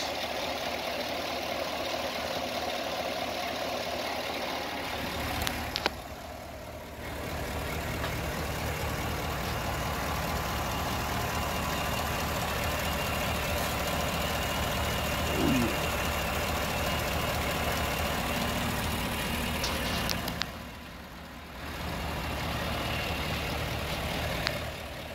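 A 2019 GMC Yukon XL Denali's V8 runs steadily at idle, a constant mid-low engine drone heard close and alone, with two brief dips in level partway through.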